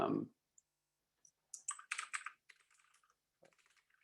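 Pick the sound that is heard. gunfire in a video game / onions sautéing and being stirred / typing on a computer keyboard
typing on a computer keyboard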